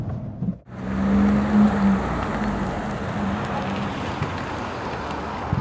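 A 2024 Fiat Panda Hybrid coasts to a stop with its engine silent, leaving a steady broadband hiss of tyre and road noise, fairly loud and even after a brief drop at the start, no voices.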